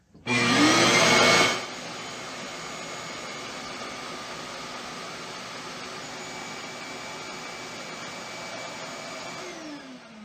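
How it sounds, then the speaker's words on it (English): A small Milwaukee M18 FUEL cordless backpack shop vacuum runs with a steady, even whine, loudest in a brief opening burst and then settling into a constant drone until it winds down at the end. "Now, this is a very small shop vac."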